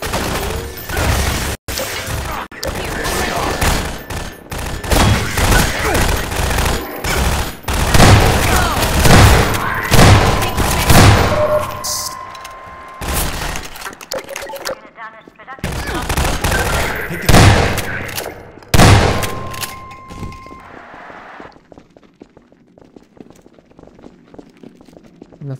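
Half-Life 2 combat in the Anticitizen One chapter: sustained, loud bursts of automatic gunfire and heavy impacts, broken by brief lulls and then resuming before fading out.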